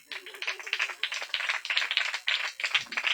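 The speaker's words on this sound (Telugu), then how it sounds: "పెద్ద ఫోన్ లేని వాళ్ళు వీళ్ళకి ఒకసారి చప్పట్లు కొట్టండి" A church congregation claps together, a dense and steady patter of many hands lasting the whole stretch at a moderate level, with no voices over it.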